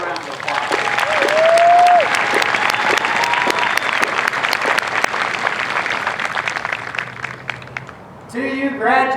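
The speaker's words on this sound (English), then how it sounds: "Let's give them a big round of applause." Large crowd at an Air Force basic military training graduation parade applauding graduates, loud sustained outdoor clapping with a few whistles, easing off before a voice speaks near the end.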